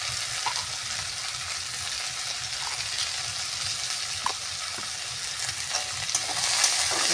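Small chuno fish with turmeric and salt sauté in a hot pan, a continuous frying sizzle broken by occasional light stirring taps and scrapes.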